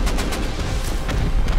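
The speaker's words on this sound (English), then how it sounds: "The other base is shooting at us." Enemy base turrets in the video game Rust fire a dense, continuous barrage during an online raid, a loud rattle of rapid shots with no pause, no speech over it.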